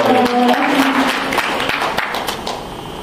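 An audience at a hotel education event applauds a singer and pianist, a brief round of clapping with a held tone at the start, tapering off quickly.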